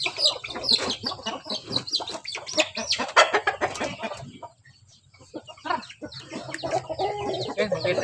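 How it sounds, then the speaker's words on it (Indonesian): A young chicken, recovered from a worm infection, clucks repeatedly at close range in a lively, irregular stream with a brief pause midway. "ini ayam yang dulu cacingan ya teman-teman ya"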